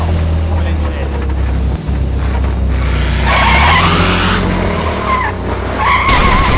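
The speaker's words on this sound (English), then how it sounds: "Did he just crash that truck?" A truck's tyres skid hard over wind-blown rumble, with loud squealing bursts and a heavy engine roar close to the microphone; a voice is heard partway through.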